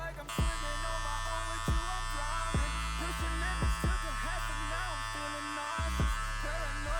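Electric hair clippers with a half guard and lever at three-quarters buzz steadily and close while blending a low fade, with a constant hum and repeated short dips as the blade passes through hair.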